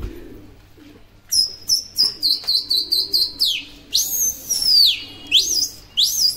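Show pigeons call from close by in a series of about a dozen short, bright chirping notes, then several longer rising-and-falling calls, with a low hum underneath.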